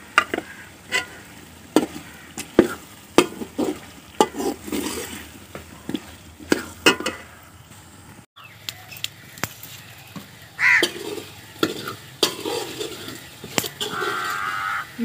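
Cut potatoes roast in masala in a pan, a soft sizzle punctuated by frequent sharp scraping and clanking stirs of a spoon.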